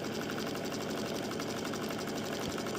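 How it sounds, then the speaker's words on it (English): A domestic sewing machine runs steadily as fabric is pulled through under slight tension, a fast, even mechanical whirr and rhythmic needle clatter heard close and continuous, with no talking. "And just let the machine pull the fabric through."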